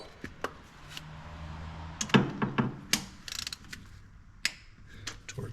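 A valve poly lock set screw on a 1965 Ford Mustang 289 engine is torqued down, heard as scattered close metallic clicks and ratchet ticks with short tool clatter and pauses.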